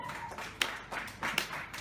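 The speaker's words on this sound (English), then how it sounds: "they're sarcastically slow clapping him too" An audience at a stand-up comedy gig claps slowly and sarcastically, a few sparse, deliberate claps spaced well apart with murmuring in between.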